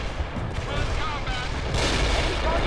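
Mortar artillery fire in the World in Conflict video game, a dense barrage of booms and blasts rolling under mixed game sounds and voices, growing louder and fuller toward the end.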